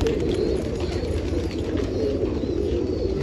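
Pigeons cooing steadily near a loft in Nashik Road, Maharashtra, where the birds are let out to peck grain, their low murmuring continuous over a dense outdoor background.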